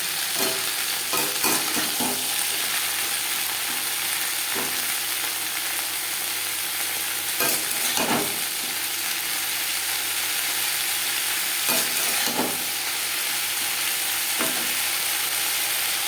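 Green yardlong beans stir-frying in a pan with little oil and no spices, a continuous close sizzle broken by repeated scraping and clattering of the spatula, no voices.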